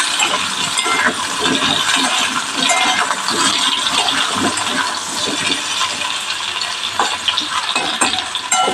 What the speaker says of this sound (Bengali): এবার আলুগুলো তেলে দিয়ে দিয়েছি। আলুগুলো একটু কষে নেবো, তেলে নেড়ে নেবো হালকা করে।